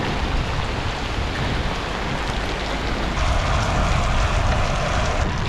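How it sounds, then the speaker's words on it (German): Heavy rainstorm on a solo bikepacking ride, a dense, loud, continuous wash of rain and wind noise close to the microphone, swelling slightly stronger in the second half, with no voices. "jetzt bin ich hier mitten in so einem Unwetter drin"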